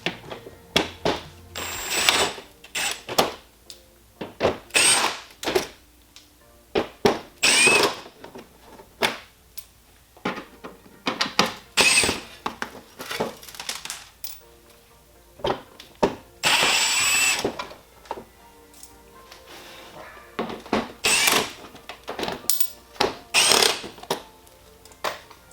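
Power drill backing screws with fender washers out of the front plate of a BMW M3 F80, loud close bursts of whirring repeated in short runs with clicks and pauses between them.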